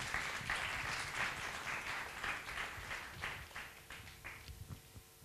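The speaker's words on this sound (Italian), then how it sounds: "Grande applauso al maestro Francesco Silipo." A music academy audience applauds maestro Francesco Silipo, a faint, steady patter of many hands that loosens into sparser claps toward the end.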